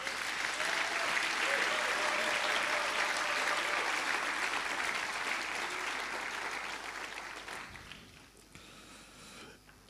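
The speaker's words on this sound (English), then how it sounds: "I need for us to give ourselves a round of applause." An audience at a foundation forum claps loudly in a sustained, dense round of applause that fades away toward the end, leaving a few scattered claps.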